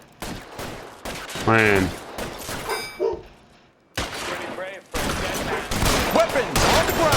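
Gunfire from the crime video game L.A. Noire, loud overlapping shots in a rapid burst mixed with a voice, the shooting continuing through the clip alongside other game sounds.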